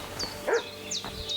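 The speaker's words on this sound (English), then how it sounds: "What's that dog making such a fuss about?" A dog barks several times in Kingdom Come: Deliverance II, sharp fussy yips repeating at a moderate distance with no talk over them.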